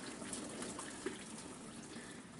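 Boiling pasta water poured out of a pot, a steady close rushing gush with a brief splash midway, no voices.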